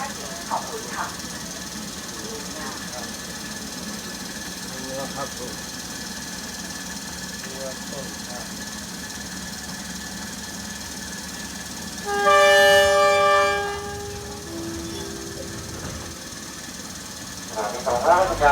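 Thai local passenger train number 427 departs a station, its engine rumble and rolling noise steady throughout, with a loud horn blast partway through and voices nearby.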